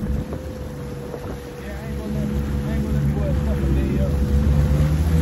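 Jet ski engine droning steadily across open water during a police chase, its low hum rising slightly as it speeds up, with wind buffeting the microphone and people talking over it.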